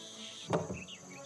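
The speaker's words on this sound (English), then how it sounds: "I think I can hear a cricket chirping in the barrel." One short cricket chirp rings out from inside a barrel in the adventure game The Night of the Rabbit. It is a brief, mid-level burst over a soft, steady ambient bed.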